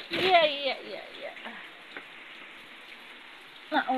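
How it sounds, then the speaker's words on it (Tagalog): Steady rain patters across a surface, a soft continuous hiss with scattered drops, while voices speak briefly at the start and again near the end. "Hindi na tumigil ang ulan."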